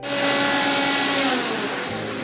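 A mixer grinder whirs loudly and continuously while grinding khoa, its motor whine steady before easing slightly toward the end.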